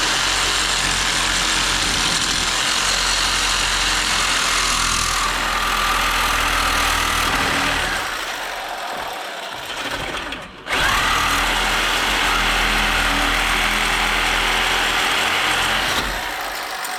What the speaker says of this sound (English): I like to take the Sawzall. If you cut the metal, it relieves this tension there